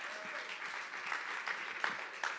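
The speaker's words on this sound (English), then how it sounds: "Let's give Anita a round of applause" Audience applause in a business event hall as a founder and CEO is called up to the front, a steady wash of clapping from many hands with a few louder individual claps rising above it.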